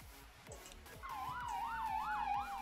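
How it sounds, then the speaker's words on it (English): A police siren wails in repeated rising and falling sweeps, fairly faint, starting a moment in over a low rumbling background during a chase after a clothing store robbery. "I hope they turn their sirens off and lights"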